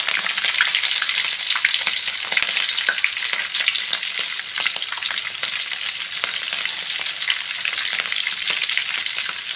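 Green chillies and urad dal fry in oil for chitranna, a steady dense sizzle crackling throughout with occasional sharper pops and stirring scrapes, close and loud with no talking.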